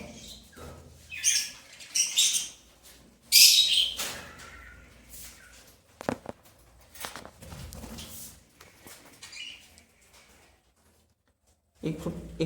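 Caged pet birds offered for sale chirp and squawk in bright bursts, loudest in the first few seconds, then fall to scattered calls with background shuffling and a brief near voice near the end.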